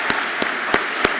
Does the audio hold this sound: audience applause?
yes